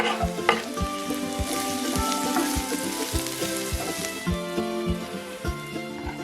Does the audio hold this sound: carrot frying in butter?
yes